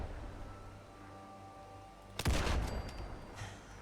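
A single loud, close rifle shot from the Rhino M1 weapon mod in Fallout 4 cracks out after a quiet stretch of low game ambience, followed by a rumbling tail that fades over about a second.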